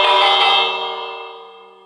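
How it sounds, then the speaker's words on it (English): A single bell strike in Minecraft Bedrock rings out clear and bright, then fades away smoothly over about two seconds with nothing else heard. "Let's ring this bell."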